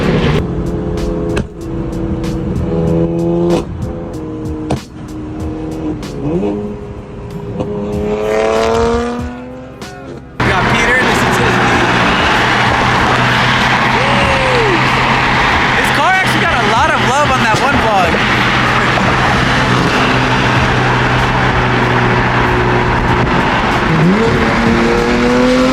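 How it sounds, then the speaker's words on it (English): A tuned BMW F80 M3 exhaust revs loudly with sharp crackling pops, first short blips and revs, then a sustained roaring run with tire squeal, heard up close with people talking at times. "It definitely doesn't pick up on camera how loud those pops are."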